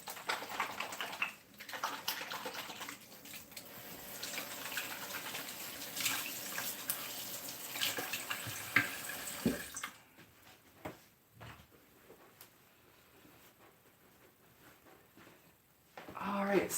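Tap water runs steadily into a kitchen sink as hands are washed, a broad rushing hiss for about ten seconds before it cuts off, leaving quieter room noise and faint clatter.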